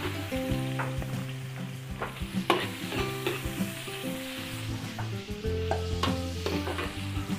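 Garlic and onion sauté in a hot pan, sizzling steadily while a utensil stirs and clanks against the pan at irregular intervals, close up and with no one talking.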